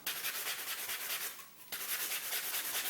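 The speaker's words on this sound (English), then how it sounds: "I have some sandpaper for tougher spots" Sandpaper rubs paint off an aluminum soda can in quick, rhythmic back-and-forth strokes, close and steady, with a brief pause midway.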